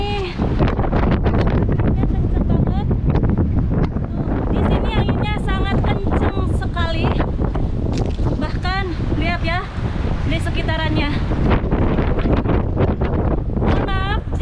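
Strong storm wind buffets the microphone in Makkah, a constant loud roaring rumble throughout, with someone speaking over it.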